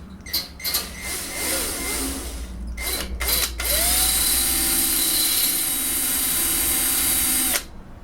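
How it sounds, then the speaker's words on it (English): A small 1/8 drill bores into a radiator bleed nipple: a few short, stuttering bursts of the motor, then one loud, steady, high whine held close for about four seconds before it cuts off. "So what we need is a small 1/8 drill"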